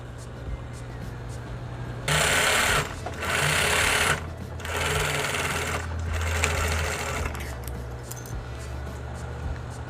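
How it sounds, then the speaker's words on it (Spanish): A sewing machine stitches a 1 cm lining seam on a recycled-fabric fringed bag in several close, loud bursts separated by short pauses, over a low steady background hum. "Y lo pespuntamos."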